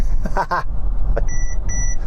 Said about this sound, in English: that noise is to illustrate that I'm getting too close to the car in front and it wants to auto brake